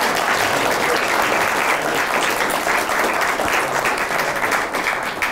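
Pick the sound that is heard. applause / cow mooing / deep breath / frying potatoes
applause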